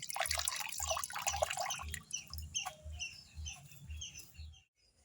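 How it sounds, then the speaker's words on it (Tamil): Mudakathan greens are swished and rinsed by hand in water, giving splashing and dripping sounds close by, with a regular low pulsing thump and birds chirping faintly in the background. "ஒரு கைப்பிடி அளவு எடுத்துக்கலாம். நல்லா அலசிக்கலாம்."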